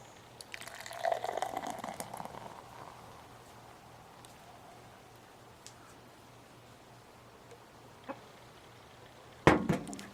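Simpler Times pilsner poured from a can: a quiet splashing pour early on, then faint fizzing and settling, ending with a couple of sharp knocks near the close.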